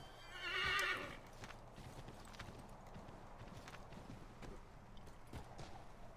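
Horse in Assassin's Creed III gives a loud, close neigh early on, followed by a steady run of clip-clopping hoofbeats continuing at a quieter level.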